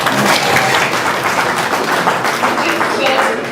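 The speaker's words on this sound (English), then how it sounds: "so can you clap for her?" Loud, continuous audience clapping at an accreditation launch event, dense and sustained with voices and cheering mixed in underneath.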